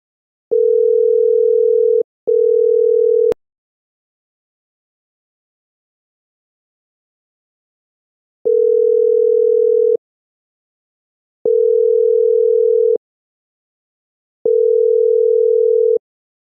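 A phone call rings out unanswered: a loud, steady electronic ringback tone sounds in pulses of about a second and a half, separated by silent gaps of uneven length, with no voices.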